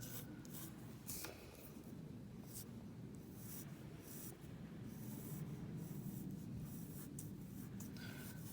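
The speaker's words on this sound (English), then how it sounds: "I'm just kind of brushing the paper with the pencil" A pencil sketches lightly across paper, soft continuous scratchy brushing strokes close up and faint, with a few brief louder strokes.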